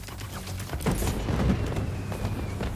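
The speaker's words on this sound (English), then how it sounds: "The fireworks! They're lit!" Fireworks going off in the Spider-Man 2 video game, a rumbling cluster of muffled bursts and booms with crackling tails, moderately loud and building through the middle before settling into a low roar.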